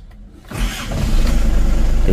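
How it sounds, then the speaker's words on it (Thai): A car engine cranks and catches after half a second, then settles into a loud, steady running rumble close by, with a slightly uneven, shaking beat in the idle. "ต่อไปนะผมจะทำการ สตาร์ทเครื่องยนต์แล้วมาดูกันนะครับ"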